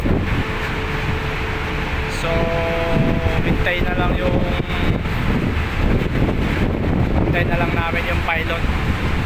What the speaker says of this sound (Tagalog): So yung makina nakabukas na rin. Bukas na yung engine namin.